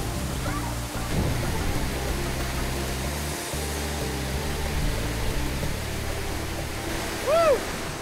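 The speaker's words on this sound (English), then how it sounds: "It is so forceful underneath that waterfall, but you can't appreciate it until you're actually standing right under it." A powerful waterfall on the Siem Reap River in Cambodia roars as a constant broadband rush, loud and close, with a brief whoop near the end.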